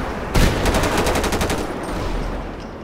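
Rapid automatic gunfire from a GTA 5 military SWAT mod rattles out in a fast, loud burst lasting over a second, then trails into the game's ambient noise.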